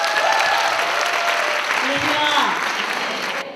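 A large audience claps in sustained applause to welcome a guest evangelist onto the stage at a church women's gathering. The dense, steady clapping lasts throughout, with a few faint voices mixed in.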